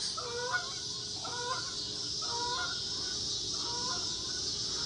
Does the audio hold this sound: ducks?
yes